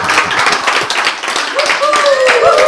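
Hands clap in quick, rhythmic strikes while a voice keeps talking over them.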